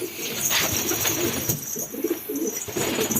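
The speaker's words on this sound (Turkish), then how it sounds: "Burada şu an yeni uçmaya başlayan güvercinlerimiz var." Several homing pigeons coo in low, throaty, overlapping murmurs close by, with some rustling in the background.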